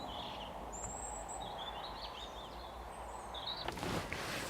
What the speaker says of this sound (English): it's lovely standing here listening to the birds singing all around us.